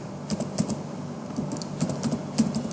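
Rapid, steady clatter of keys on a computer keyboard while Python code is typed, close and alone with no talking.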